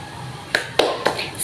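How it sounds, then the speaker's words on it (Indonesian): A primary school class claps a rhythmic cheer clap together, a few sharp, evenly spaced claps at moderate loudness in a quick pattern. "Ibu mau kita semua sama-sama tepuk semangat"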